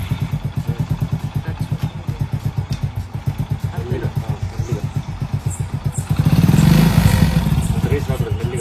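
A motorcycle engine putters in a fast, even thumping rhythm outdoors in a farm grove, then revs louder for a moment before settling back, with voices nearby.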